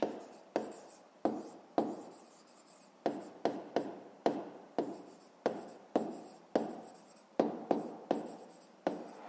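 A pen scratches steadily across paper in quick repeated strokes, close and fairly quiet, as a maths exercise is worked out by hand with no talk over it.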